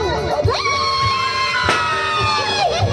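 High-pitched children's voices shouting and shrieking, several overlapping cries rising and falling, fairly close.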